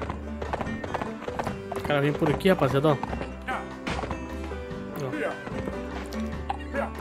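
Horse hooves clip-clop in Survivalcraft 2 on a homemade vaquejada track, quick irregular clopping that swells for a burst in the middle, accompanied by game noises while someone speaks Portuguese over it.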